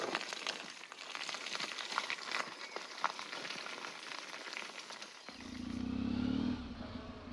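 An off-road motorcycle engine on a descent, a steady gritty rumble under rushing wind-like noise, then a single throttle blip that swells into a louder droning rev and fades back.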